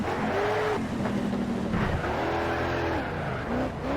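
A race car drifting in Need for Speed: SHIFT, engine revving steadily under sliding, wavering tire squeals that rise and fall several times, loud and close throughout.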